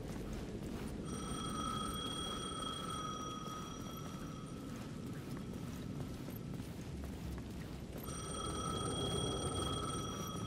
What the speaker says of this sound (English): Payphone at the edge of the plaza was ringing again.